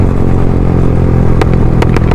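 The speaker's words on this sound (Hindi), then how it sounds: "जैसे मैं रेस छोड़ता हूँ ना आपको पता है कैसी साउंड आती है, ये देखो" Motorcycle engine revving loudly and steadily up close, with sharp crackling pops near the end as the throttle is released on a bike fitted with aircraft LED lights.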